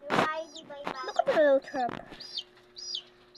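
Chickens cluck and a rooster calls in short bursts near a newly hatched chick, with high peeping notes, while a person talks over them close by.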